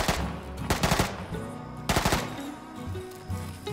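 Bursts of automatic and single gunfire in the Arma 3 video game, two loud clusters of rapid shots with scattered fainter shots between, no talk.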